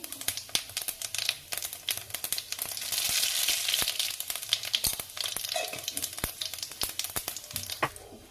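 Whole cumin and radhuni seeds hit very hot oil and crackle steadily, with dense sizzling and sharp pops and spits scattered throughout, close and fairly loud with no voices.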